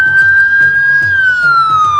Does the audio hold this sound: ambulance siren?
yes